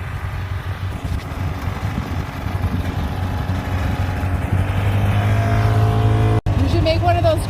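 A car engine idles steadily outdoors in snowy Cochrane, Alberta at Christmas, smoking as it runs, a continuous low rumble that grows slightly fuller toward the end, with people talking nearby.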